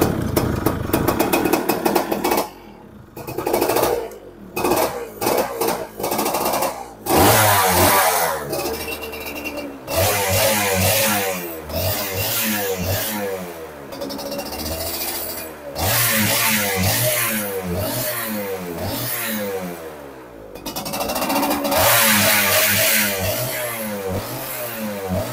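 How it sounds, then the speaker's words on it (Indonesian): A 2002 Yamaha F1ZR two-stroke motorcycle with a racing exhaust revs hard, crackling up and down repeatedly with short throttle blips, then longer sustained revs, close and loud throughout. "Knalpotnya udah pakai racing ya. Kita cek sound dulu."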